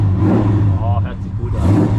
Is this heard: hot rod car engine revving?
yes